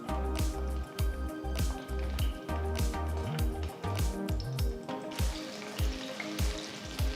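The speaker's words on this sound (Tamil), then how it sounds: "நறுக்கி வச்சிருக்கிற கத்திரிக்காயை சேர்த்து நல்லா வதக்கிக்கலாம்." Eggplant sautéing in sesame oil in a kadai over a medium flame, with a steady, loud sizzle and frying crackle running the whole time, broken by soft thumps and stirring as the pieces are turned, under music with a strong beat.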